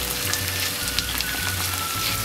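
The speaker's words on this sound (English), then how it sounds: "As we have added all the chicken pieces together for frying" Steady sizzling and crackling of chicken pieces frying in a hot pan for chilli chicken, continuous and close, with faint scraping of a utensil.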